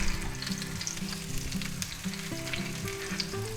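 A chicken cutlet for a chicken parmesan sub, just flipped in a hot pan, frying with a loud continuous sizzle and crackle, close and steady, no voices.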